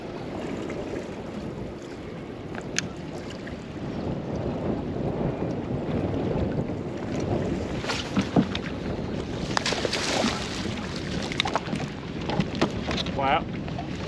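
A Ranger RT 198p bass boat runs steadily across a lake, its engine drone blended with constant wind buffeting and water rush, with a few faint knocks and splashes along the way.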